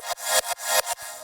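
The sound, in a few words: kick punch duplicated into punch reverb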